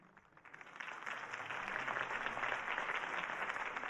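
A crowd in the Batman Telltale Series video game applauds a Harvey Dent campaign speech, a steady wash of clapping that swells quickly and stays moderately loud.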